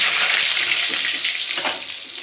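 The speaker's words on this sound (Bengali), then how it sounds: "তেল ভাজা মুইঠাগুলোর ভাজা তেলে আমি আলুগুলো ভেজে নিচ্ছি" Potatoes fry in oil already used for frying soybean muitha, giving a loud, close, continuous sizzle with bubbling crackle that eases slightly toward the end.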